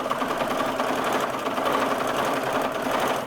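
A sewing machine runs continuously at a fast, even clatter while tacking down free-motion stitching on a textile piece of foreground shrubs and grasses, close and alone with no talking.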